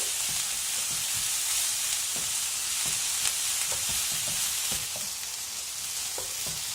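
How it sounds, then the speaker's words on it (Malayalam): Onions with salt sauté in a pan for a vegetable kurma, giving a steady, close sizzle with faint scattered stirring taps throughout and no talking. "നമുക്ക് ഈ ഓണിയൻസ് വേഗം സോഫ്റ്റായി കിട്ടാൻ വേണ്ടിയിട്ട് കുറച്ച് ഉപ്പ് ചേർക്കാം. നന്നായിട്ട് സോട്ട് ചെയ്തെടുക്കാം നമുക്ക്."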